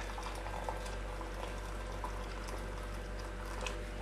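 Hot water pours from a glass Pyrex jug onto gluten-free sweet chilli noodles, giving a steady, soft bubbling splash that runs throughout at close range, with no talking.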